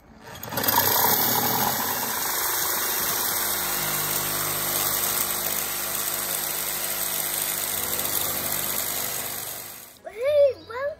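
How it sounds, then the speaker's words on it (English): A power saw cuts a hole in a plant pot for a bird box, a loud continuous buzzing whine running steadily for about ten seconds before stopping, followed by brief voices. "Now we have to use a saw, which is quite noisy."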